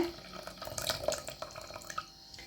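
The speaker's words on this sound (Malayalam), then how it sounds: "ഇത്തിരി പുളിവെള്ളം ഇതാ നല്ലോണം എടുത്തു വെച്ചിട്ട് നല്ല പുളി ഉണ്ട് കേട്ടോ അത് ഇതിലേക്ക് ഒഴിച്ചു കൊടുക്കട്ടെ" Tamarind water is poured into a brinjal chutney mix, making a short, close, trickling liquid splash with small drips that tapers off toward the end.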